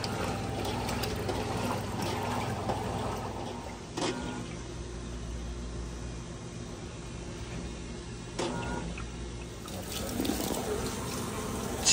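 Roper top-load washing machine filling with water for a rinse, a steady rushing hiss of incoming water with low hum and two brief knocks partway through.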